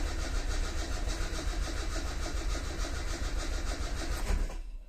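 A carbureted car engine runs on gas before switching over to petrol. It chugs roughly and loudly for several seconds, then cuts out abruptly at the end, with no talking.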